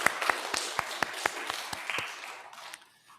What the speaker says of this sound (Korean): 잠깐 일어나시면 박수로 환영하겠습니다.